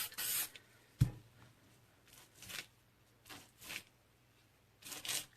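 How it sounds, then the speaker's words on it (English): Short hissing sprays of clear coat from an aerosol can, several quick bursts spaced a second or so apart, faint and close, with a small clack near the start. "I'm just gonna spray a little bit of clear coat here on the bottom,"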